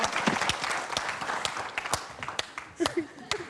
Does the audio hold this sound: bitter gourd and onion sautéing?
no